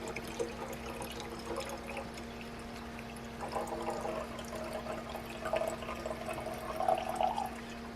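Water is poured for a dog inside an RV, a quiet trickle and splash that swells near the middle and again toward the end over a steady low hum, with no voices.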